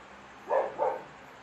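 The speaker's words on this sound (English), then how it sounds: "This dog outside is going crazy." A dog barks outdoors, two quick barks in succession at a moderate distance, with nothing else in the background.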